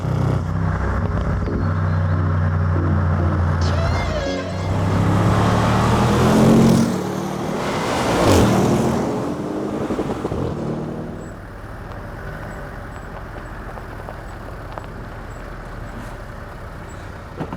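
An Audi RS6 Avant with a twin-turbo V8 pulls hard under acceleration, loud and close, its engine note rising and surging over several seconds before easing back to a lower steady drone.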